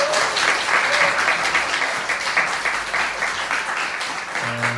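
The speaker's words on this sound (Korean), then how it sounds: "우리 세 분을 위해서 박수 한번 주시겠습니다" A congregation at a Sunday church service applauds warmly, a dense, even wash of many hands clapping that holds steady for several seconds.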